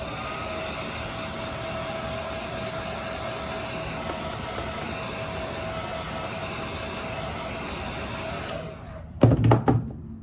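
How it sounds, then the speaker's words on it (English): A handheld blow dryer runs steadily on glued-in hair tracks for a ponytail, a constant close airy roar that cuts off near the end, followed by a few brief knocks. "I'm gonna take my blow dryer and I'll dry them"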